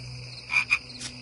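A frog croaks in the video game Dark Parables 2, two quick close croaks followed by a fainter third, over a soft steady game ambience.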